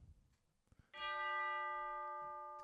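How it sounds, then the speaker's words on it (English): Tubular bells from Sonuscore The Orchestra Colors sample library in Steinberg HALion strike once, a bright sustained chime with a long ringing decay, heard alone and close. "And there is tubular bells."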